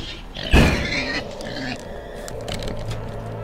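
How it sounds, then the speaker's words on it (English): A demon pig in the Roblox butchery game lets out a loud, sudden oinking grunt near the start, followed by quieter lingering game noise and faint voices. "Demon pig."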